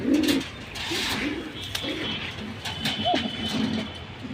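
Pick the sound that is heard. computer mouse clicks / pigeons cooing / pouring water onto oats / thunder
pigeons cooing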